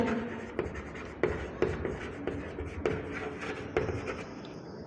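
Chalk or marker writing on a board during a biology lecture on teeth, heard as steady scratchy strokes with regular tapping accents roughly every half second, fairly close and alone without talk.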